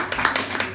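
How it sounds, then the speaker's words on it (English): Brief burst of audience clapping and cheering for women on stage at a Blind Date show by The Outsiders at The Shakespeare pub in London, with several sharp claps over a crowd wash in under a second. "Another cheer for the ladies,"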